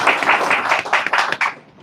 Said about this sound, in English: I just wanted to give him a round of applause for asking this question.